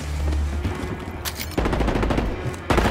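Rapid bursts of KSV automatic gunfire in a Call of Duty match, loud and close, with a first stretch of shots, a brief gap, then further dense rattling bursts, no voices over them.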